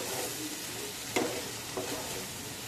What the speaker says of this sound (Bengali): সবজিগুলোর সাথে মশলাটা আবার খুব ভালো করে কষিয়ে নিচ্ছি